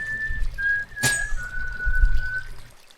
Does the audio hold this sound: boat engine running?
no